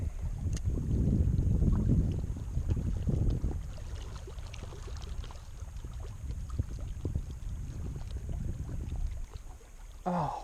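Wind blowing beside a brook in Wyoming makes a steady, broadband rush, gustier and louder in the first couple of seconds, then settling into a constant roar.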